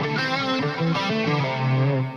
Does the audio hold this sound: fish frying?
no